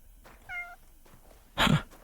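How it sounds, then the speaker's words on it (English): A cat meows in Kingdom Come: Deliverance II, giving a short, tonal meow followed moments later by a louder, rougher second call, both fairly close with quiet background between. "There's a cat somewhere."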